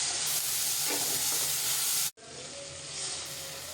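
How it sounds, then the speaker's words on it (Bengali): Onion, chilli, garlic, ginger and spices fry in a pan for an egg curry, giving a loud, steady sizzle and hiss that cuts out briefly midway before resuming. "একটু ভাজা ভাজা হওয়ার পরে আমি এখানে প্রয়োজনীয় যে মশলাগুলো আছে, পেঁয়াজ, রসুন, আদা, ওগুলো দিয়ে দিলাম।"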